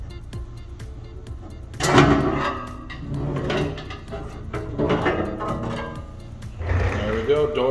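The door of a Radia 1 gallon mixer is pulled off the machine, giving several clunks and rattling metal knocks at uneven intervals, close by, with a person talking throughout.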